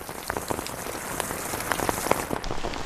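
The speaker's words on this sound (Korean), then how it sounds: "떨어지는 빗방울마저 감미롭습니다" Steady rain patters on leaves and surfaces all around in a mountain forest in Taiwan, with individual drops tapping nearby over the constant hiss.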